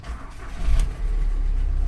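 VW Transporter T5 van engine cranking and catching with a brief burst, then settling into a steady, close low idle rumble with no talk.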